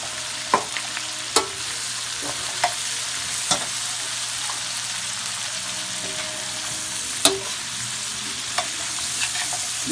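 Onions and fresh carrots sauté in a pot for pot roast, a constant close sizzle punctuated by sharp spoon-against-pot clicks and stirring knocks at irregular intervals.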